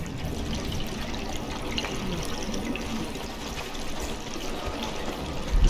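Water draining away in the video game Conan Exiles, a steady rushing, pouring flow that runs continuously at moderate loudness, with no voices.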